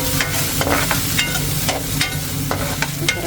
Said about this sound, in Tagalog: Next naman ang sibuyas.